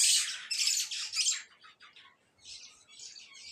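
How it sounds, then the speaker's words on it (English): Several birds chirp and tweet outdoors in bright, busy bursts, a dense flurry at first, then a brief lull before scattered calls resume, all fairly close and with no voices. "There are some birds making a noise"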